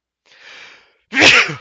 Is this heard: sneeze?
yes